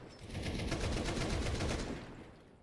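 Rapid bursts of Counter-Strike gunfire rattle out in quick succession during a competitive match, a dense run of shots that fades away near the end.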